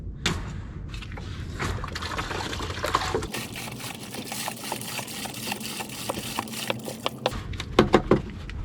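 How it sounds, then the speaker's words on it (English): A full gallon of liquid is poured for a residential window-cleaning job in below-freezing weather: a steady rushing, splashing stream lasting several seconds, close and continuous, with a few small knocks and taps near the end. "I'd probably just put a full gallon in just to be safe."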